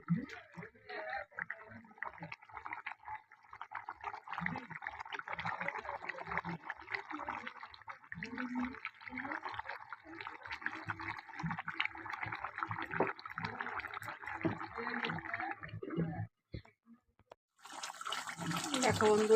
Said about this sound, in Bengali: মাছগুলো দিয়েও আমি একটু ফুটিয়ে নেব।